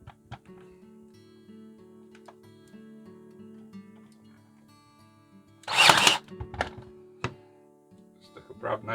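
A brad nailer drives a brad into a wooden Craftsman-style lantern panel with one sharp burst of a pneumatic pop, followed by a few lighter clicks and knocks amid a low workshop hum.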